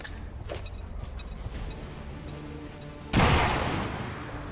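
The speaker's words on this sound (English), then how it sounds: "Throwing grenade." A grenade explosion in the video game XCOM 2 erupts with a sudden loud boom about three seconds in, then a rumbling decay, preceded by quieter game sounds and brief clicks.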